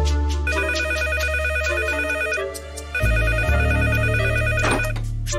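A telephone ringing loudly in an animated cartoon, repeated electronic trills over a steady musical background, with a short dip before the ringing resumes, and no talking.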